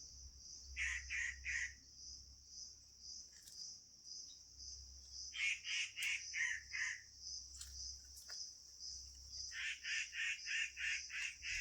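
Birds call in a quiet forest in Uttarakhand: short bursts of rapid, repeated chirping notes over a steady, high insect drone and a low rumble. Soft and distant, with no talk.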